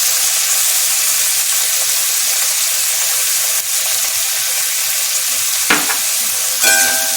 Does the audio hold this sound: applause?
no